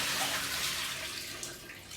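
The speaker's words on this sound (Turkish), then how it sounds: "Hatta süzelim suyunu şu şekilde." Water drains and splashes from freshly washed figs being strained in a pot, a soft, continuous hissing trickle close by with no talk.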